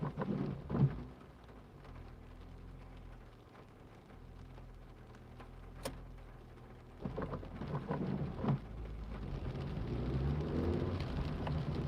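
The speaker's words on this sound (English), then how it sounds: "It's raining heavily." Heavy rain pours steadily on a car during a British road trip, with a few low thunder rumbles building in the background; no one speaks.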